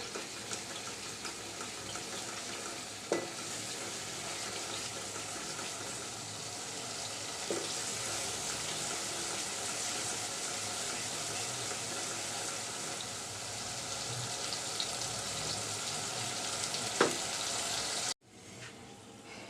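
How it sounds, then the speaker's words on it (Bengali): Chili and turmeric paste cooks in a pan with a little water, giving a continuous quiet sizzle and bubbling hiss with a few faint clicks of stirring, ending abruptly. "ওই পেস্টটা দিয়ে আমি কষিয়ে নিচ্ছি অল্প পানি দিয়ে"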